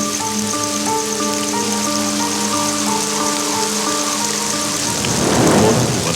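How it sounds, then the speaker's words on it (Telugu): Heavy rain pours in a dense, even roar, with a deep rumble of thunder swelling near the end. "ఇక్కడ ఎక్కువగా వర్షం పడుతూ ఉంటుంది"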